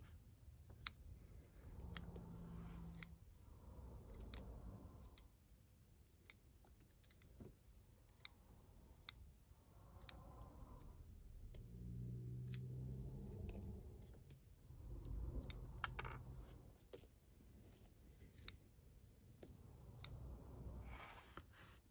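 Pruning a jade (Crassula ovata) bonsai: a series of scattered short, crisp snips from scissors cutting branches, close and fairly quiet, spread through a stretch of faint low handling noise.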